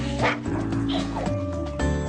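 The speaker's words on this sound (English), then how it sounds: "Stupid dog. Give me that!" A dog barks and whimpers in short, yipping bursts close by during a tussle, mixed with people talking over it.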